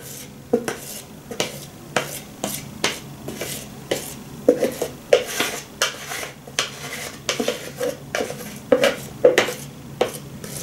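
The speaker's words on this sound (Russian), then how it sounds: "Наверное, надо ложкой это соскребать-то." A spoon repeatedly scrapes and taps against a bowl of pumpkin cake batter, a close series of irregular clinks and scrapes throughout.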